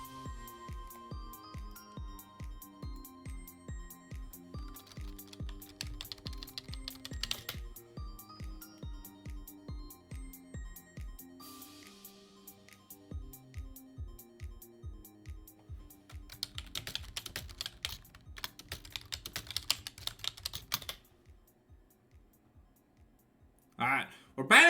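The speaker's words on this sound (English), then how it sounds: "Sorry if you can hear me typing. I have a clickety clackety smickety smackety keyboard." Clicky computer keyboard typed on during a League of Legends draft, steady rapid clacking with bursts of keystrokes alongside a repeating musical tone, with talking heard over it.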